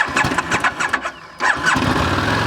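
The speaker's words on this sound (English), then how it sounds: "Fires up right away, guys." A 2009 Buell 1125R motorcycle engine starting: rapid starter cranking, a short pause, then the engine catches and settles into a loud, close, steady idle.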